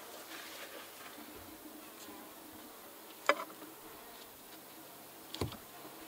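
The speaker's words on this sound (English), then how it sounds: "These bees right now are extremely docile" Honey bees at an opened hive hum in a steady, soft drone, broken by two brief sharp knocks or clicks close by.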